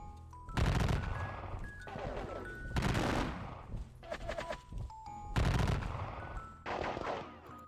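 Repeated rifle volleys crack out in the Battle of Gettysburg war game, several loud clustered bursts of musketry separated by brief pauses, with no talk.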